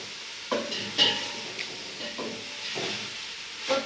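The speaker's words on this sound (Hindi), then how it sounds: "अब इसको अच्छे तरीके से फ्राई कर लेना है ताकि ये जो हमने मिर्च और नमक ये जो डाला हुआ है ये अच्छी तरीके से इसमें भुन जाए।" Chilli and salt frying in a pan for a Chinese-style dish, a soft steady sizzle with occasional stirring scrapes, close and fairly quiet, with no talk.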